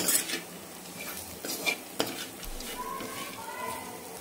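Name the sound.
stirring peanut powder into frying beetroot in a pan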